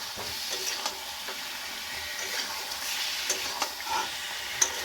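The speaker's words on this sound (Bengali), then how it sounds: "আলুটা আমি এর সঙ্গেই ভেজে নেব মানে মশলার সঙ্গেই ভেজে নেব" Potatoes frying in masala for an egg curry, a continuous close sizzle with scattered crackles and sharp pops, no voices.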